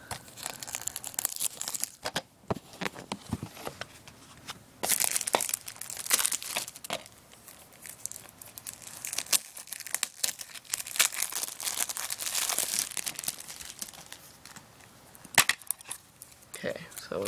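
Packing tape being sliced and the cardboard box of the DiRT 3 racing game being opened, with crinkling, tearing and rustling bursts that come and go up close, and a voice speaking now and then.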